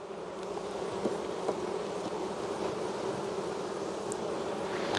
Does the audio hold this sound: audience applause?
no